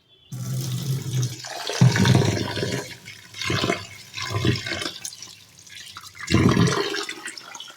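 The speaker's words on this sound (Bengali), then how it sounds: "চালটা ধুয়ে ভাতটা বসিয়ে দেবো" Rice washed in a pot of water, with repeated swishing and pouring splashes in several separate bursts, close and fairly loud, with no talk.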